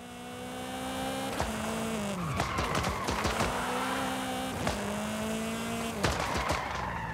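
A car drifting in the video game Forza Horizon 5 holds a sustained engine drone, with repeated sharp tire squeals and sliding sweeps as it swings through corners.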